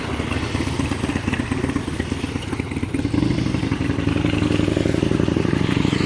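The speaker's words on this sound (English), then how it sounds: "let's let this motorcycle pass" A motorcycle engine rumbles nearby, growing louder midway as it passes close, with a steady throbbing clatter.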